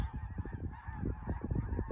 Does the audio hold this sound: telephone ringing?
no